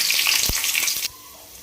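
Loud, close sizzling of spices hitting hot sesame oil for tempering, crackling steadily with a stirring clink, then the frying abruptly drops to a faint hiss.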